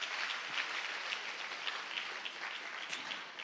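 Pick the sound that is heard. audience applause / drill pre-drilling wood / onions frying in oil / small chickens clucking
audience applause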